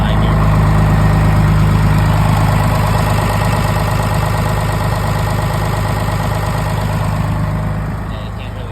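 A 1996 hot rod car engine idles steadily at close range, a dense constant rumble with a faint rhythmic knock, easing slightly quieter near the end; the engine has some blow-by and smokes from the exhaust.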